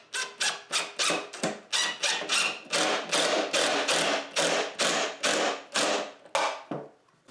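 A screw is driven into the wood of a rabbit hay feeder, making a long run of about sixteen evenly spaced rasping, scraping strokes, close and moderately quiet.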